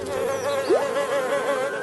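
Flies buzz steadily and close in a Marsupilami cartoon, a continuous droning hum with a wavering pitch and a brief rising swoop as one passes by, with no talk.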